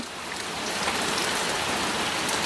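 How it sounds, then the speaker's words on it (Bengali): Evening rain falls steadily and fairly close, a dense, even hiss of drops on surfaces that holds for the whole stretch with no voices. "এখন আবহাওয়া প্রায় সন্ধ্যার সময় বৃষ্টি হচ্ছে"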